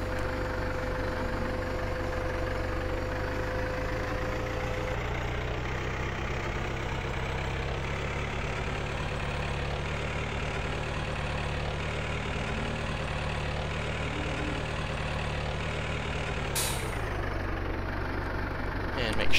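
A tractor engine idles in Farming Simulator 2013, a steady low droning rumble that holds evenly for the whole stretch, loud and constant, with no one talking over it.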